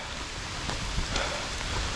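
Steady rain falls during an outdoor countryside walk near Chelmsford, a continuous close hiss of drops on wet ground and foliage with no speech over it.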